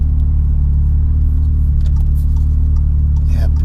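Engine of a 406 bhp stripped-out Audi S3 saloon driven in dynamic mode, heard from inside the cabin as a loud, steady low rumble throughout, with a brief rise near the end.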